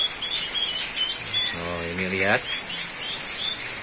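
Small caged birds kept by a bird collector chirp and whistle in quick bright calls, with one clear rising trill in the middle, while people talk nearby.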